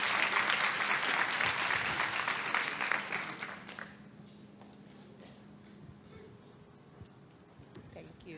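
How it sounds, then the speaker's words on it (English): Loud applause from a crowd at a women's reading event that swells for several seconds and then fades into quiet room noise. "I want you all to give a round of applause to Mr. Floyd Stokes."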